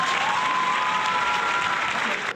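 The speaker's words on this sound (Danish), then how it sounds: "vi burde give ham en klap selv." Applause from a small group of people clapping for a pet dog, Anton, during home agility training, a steady dense patter of hands that stops abruptly near the end.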